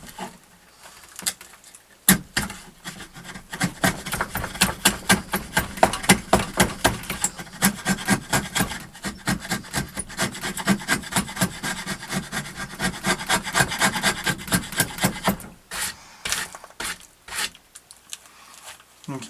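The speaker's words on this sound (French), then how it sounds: "c'est vraiment un ciseau bien affûté" A sharp chisel pares reclaimed wood by hand, a dense series of rapid rasping scrapes with steady rhythm, close and fairly loud, trailing off into a few isolated strokes near the end.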